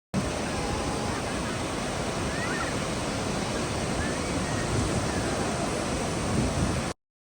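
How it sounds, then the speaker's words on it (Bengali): Sea waves wash steadily onto a calm beach at Ras Al Khaimah, a continuous broad surf roar at even loudness throughout with no voices. "এখানকার শান্ত পরিবেশ আর সাগরের ঢেউয়ের শব্দ মনকে এক নিমিষেই প্রশান্ত করে দেয়"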